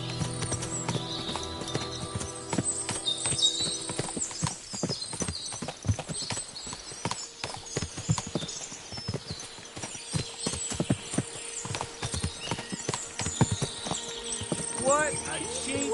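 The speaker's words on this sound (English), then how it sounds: "What a lot of horses." Many horse hooves clip-clop in a busy, continuous clatter, with occasional whinnies and voices talking over the scene, in the video game Kingdom Come: Deliverance 2.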